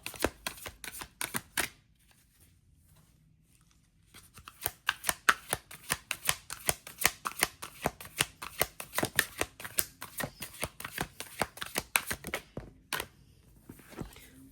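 Akashic Tarot cards being shuffled by hand, a brief riffle, a pause, then a long run of quick, crisp, rhythmic card slaps up close, with no talking.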